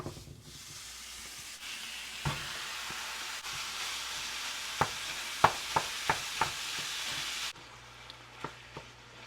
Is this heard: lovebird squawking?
no